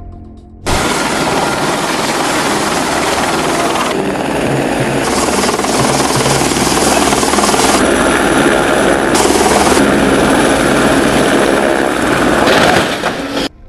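A helicopter roars loud and close throughout, its continuous rotor and engine noise filling the scene as it comes down onto a small ship deck, with no speech over it.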